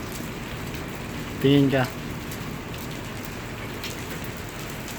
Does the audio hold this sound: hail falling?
yes